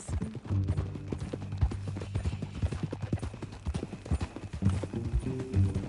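Horse hooves clip-clopping at a walk in the Western video game Red Dead Redemption 2, with a steady close rhythm of hoof strikes and low background music.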